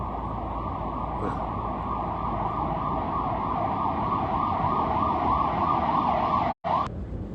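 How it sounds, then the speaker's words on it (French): A loud emergency siren holds a steady wailing tone close by over traffic rumble, then cuts out briefly before the end. "C'était une sirène hurlante."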